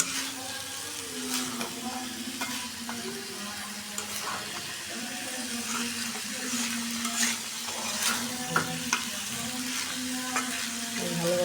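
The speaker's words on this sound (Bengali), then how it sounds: "কষাই নিতেছি" Chickpeas stir-fried with meat spices in a pan for an evening snack, a continuous sizzle with scraping stirs over a steady frying hiss, no voices.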